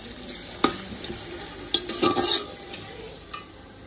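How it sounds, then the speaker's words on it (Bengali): Sliced onions fry in hot oil for crisp beresta, giving a continuous close sizzle broken by several stirring scrapes and clatters. "এখন এতগুলো পেঁয়াজ ভাজা করছি, বেরেস্তা হবে আর চিকেনের জন্য পেঁয়াজ"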